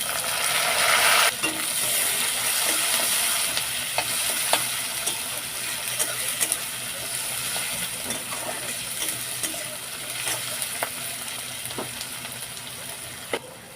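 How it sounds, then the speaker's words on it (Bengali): Garlic and chopped onion fry in a pan with a continuous bright sizzle, and a utensil stirs against the metal with scattered clicks and scrapes. The cooking runs for about fourteen seconds with no talking. "রসুন দিয়ে দু মিনিট ভেজে নিয়েছি পেঁয়াজ কুচি দিয়ে দেবো"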